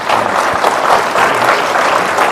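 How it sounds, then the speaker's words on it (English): A crowd at a Utah County Commission Seat A candidate debate gives the candidates a round of applause, steady dense clapping filling the room without pause. "Let's give them one more big round of applause."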